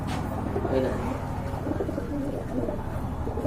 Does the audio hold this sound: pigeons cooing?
yes